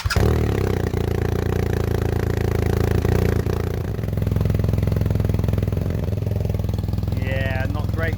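BMW R1250R motorcycle with its exhaust dB killer removed, a loud steady engine drone with strong low rumble running throughout, briefly changing pitch partway, with a short whistle-like squeal near the end.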